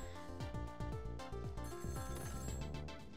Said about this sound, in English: Don't stop ringing, phone.